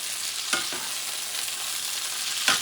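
Vegetables and artichoke fry in oil for a leftover turkey paella, a constant close sizzle with a soft hiss, punctuated by two or three quick scraping stirs of a utensil in the pan; no one speaks.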